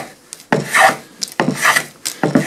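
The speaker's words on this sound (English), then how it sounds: "we'll sand them." Hand sanding on the wooden breadboard ends of a mission-style secretary desk, four rhythmic back-and-forth rasping strokes, close and fairly loud, with short pauses between them.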